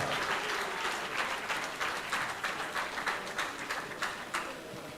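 Applause from a crowd at a national tribute event, dense steady clapping at moderate distance that keeps a rough rhythm throughout and fades slightly at the end.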